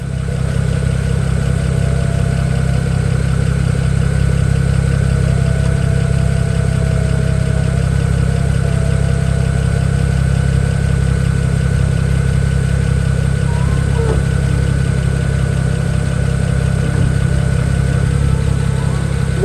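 A 2008 BMW 335i convertible sits idling, its engine a steady, continuous low hum with a smooth even drone and no revving, close and loud throughout.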